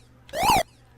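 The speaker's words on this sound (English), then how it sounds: "Here's my siren." A single short synthetic siren blip programmed in BASIC on a Color Computer, rising then falling in pitch, loud and electronic, lasting about a third of a second.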